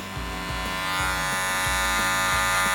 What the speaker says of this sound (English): When you are doing your clipper over comb